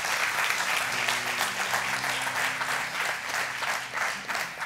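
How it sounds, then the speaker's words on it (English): A church congregation claps their hands together at a service, dense, loud applause holding steady throughout, with a low murmur or music underneath. "Would you clap your hands today and thank God for that?"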